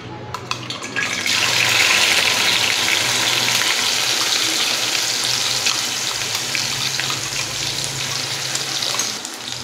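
Onion, ginger and garlic paste frying in hot oil with cumin for an egg curry, a loud, dense, continuous sizzle and hiss that holds steady throughout, close by with no talk.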